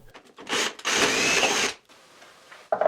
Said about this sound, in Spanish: Solo tengo que taladrarlos, con ayuda de un mártir para no astillar la salida del agujero.